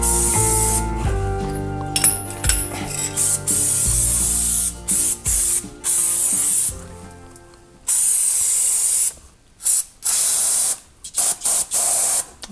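Aerosol spray can hissing in repeated bursts, loud and close, with short pauses between sprays and faint clinking, used on a square-body truck.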